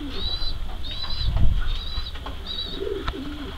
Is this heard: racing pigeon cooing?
yes